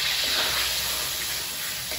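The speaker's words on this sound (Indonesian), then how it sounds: "Kita tumis dulu sampai bumbunya wangi." A blended spice paste of shallots, garlic, chili, tomato, ginger, galangal and candlenut sautés in a pan for a chicken dish, giving a soft, steady sizzling hiss without talk.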